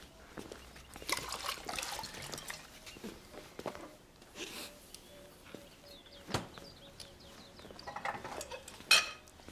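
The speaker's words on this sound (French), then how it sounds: "D'accord, lave la vaisselle." Dishes being washed in a sink, with clinking plates and cutlery, trickling and splashing water and intermittent clatter, fairly close and uneven in rhythm.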